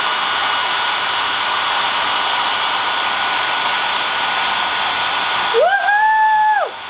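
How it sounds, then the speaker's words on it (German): A handheld hair dryer blows as a steady, loud broadband rush up close for most of the stretch, then shifts pitch near the end, with a rising and falling whine before the airflow cuts out. "Ich nehme jetzt den Föhn und dann gucken wir mal, was passiert."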